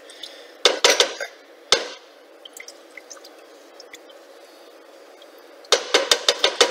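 A spoon knocks and scrapes against a pot of cheddar cheese soup, a few clustered clinks early, then a quieter stretch with faint wet stirring, and a rapid run of sharp taps at the end; no talking.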